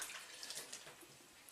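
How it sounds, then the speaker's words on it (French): Hands are rinsed under a running tap in a kitchen while making sushi, a brief, faint hiss of splashing water without voices. "je vais me rincer les mains"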